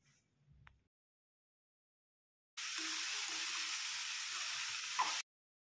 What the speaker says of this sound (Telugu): ఇప్పుడు మనం క్యాబేజీ వేసేసుకోవాలి. వేసుకొని ఫ్రై చేసుకోవాలి.